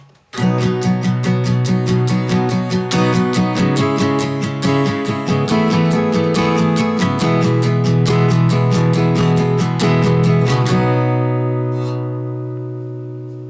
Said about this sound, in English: A way that you could simplify the strum pattern on that last chorus would be just to play a straight 16th